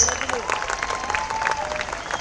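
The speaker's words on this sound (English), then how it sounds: "big, big round of applause." A school audience at an annual concert gives a brief round of applause, with clapping that is fairly close and steady and a voice speaking over it.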